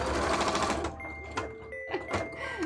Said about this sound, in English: It's kind of normal for a sewing machine to make louder noises when it's going through thicker pieces of fabric